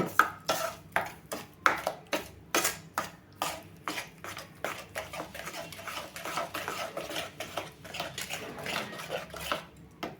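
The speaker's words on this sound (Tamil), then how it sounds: "நல்லா கைவிடாமல் கிளறுங்க" Guava halwa cooks with sugar in a pan while a spoon stirs it steadily, scraping and clattering against the metal in a quick rhythmic series of close, loud strokes.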